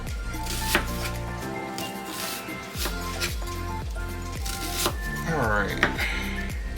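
A knife chops through onions on a board in quick, even thin slices, giving a close, crisp run of taps over a faint tonal background.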